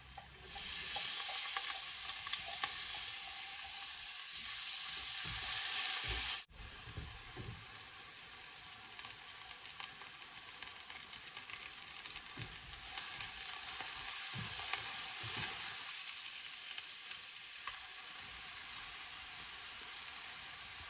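Onion fries for pork spring rolls (lumpiang Shanghai) in a pan, starting as a loud hissing sizzle that drops suddenly, then continues as softer crackling with intermittent stirring scrapes.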